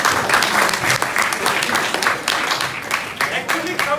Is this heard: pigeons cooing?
no